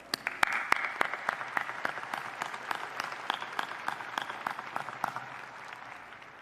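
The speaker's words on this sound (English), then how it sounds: "Round of applause for these individuals." Steady applause from a crowd at a university commencement ceremony, many hands clapping with sharp individual claps standing out, sustained throughout at moderate loudness.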